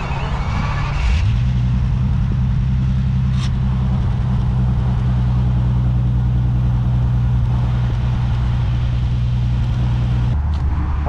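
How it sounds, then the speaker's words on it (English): A 2010 Bentley Continental GT Speed starts up and settles into a loud, steady, deep engine rumble up close, running continuously for about ten seconds before cutting off near the end. "So we just got the car started on. Yo, this thing sounds so beastly."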